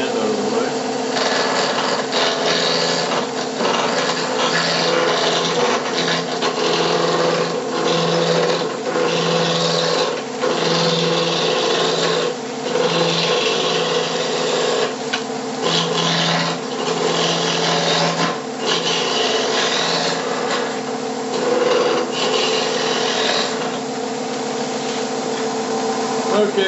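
A wood lathe turns at about 1200 rpm while a block of wood is rounded into a cylinder. A steady rasping scrape plays over the motor's constant hum, and a voice talks over it at times.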